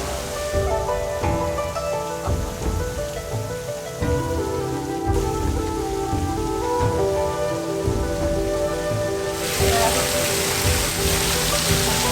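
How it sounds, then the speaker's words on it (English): Water pours and splashes steadily onto a boat's front deck, a dense hissing patter like heavy rain, continuous throughout, in New Zealand's South Island. "If you're on the front deck, there will be water falling onto the deck."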